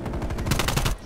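Rapid, dense bursts of automatic gunfire from Call of Duty: Black Ops Cold War on the Nuketown map, with shots overlapping loudly and continuously across the whole moment.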